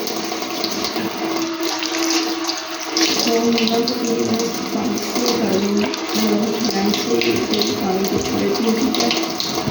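Tap water runs steadily into a sink while utensils and a bowl of besan are washed, a loud continuous splashing stream with faint clinks and a brief bit of speech.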